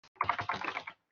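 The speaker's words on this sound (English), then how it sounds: "See, typing and speaking at the same time, it's hard to do." A brief close burst of computer keyboard typing, a dense cluster of rapid key clicks lasting under a second and then silence.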